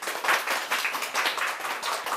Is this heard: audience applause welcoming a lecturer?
yes